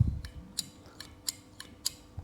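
Fishing scissors from a boat and fishing gear haul being squeezed and clicked: five or six sharp, crisp clicks spaced about a third of a second apart, close and fairly quiet, with no talk.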